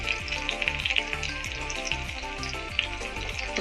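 Curry leaves sizzling and spitting in hot oil in a pan while making pappadam curry, a loud, close, continuous crackle with rapid pops and a few stirring scrapes, no talking.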